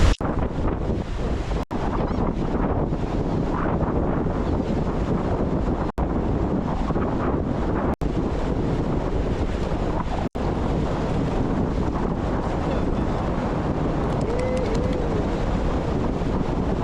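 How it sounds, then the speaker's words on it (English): Wind roars steadily across a beach during surf fishing, a loud continuous buffeting on the microphone with broad rushing noise, broken by a few brief sharp dropouts, and no talk. "The wind is barely blowing."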